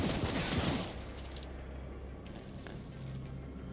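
Gunfire bursts in The Ascent video game as shots are fired up a staircase at enemies, a loud rapid volley at first, then fading into quieter, sparser shots and background game ambience.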